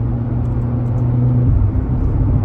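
A Lamborghini engine drones with a low, steady rumble from inside the cabin while driving, a constant hum with slight shifts in pitch.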